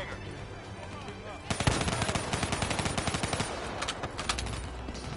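Rapid automatic gunfire from a Black Ops 3 co-op campaign firefight, bursts of loud close shots starting after a second and a half and continuing in fast rattling runs, with faint voices and battle noise underneath.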